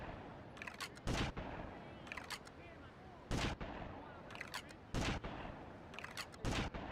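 Gunfire in Grand Theft Auto: Vice City comes as short bursts of shots roughly every second or two over a low, busy background, with faint talk beneath.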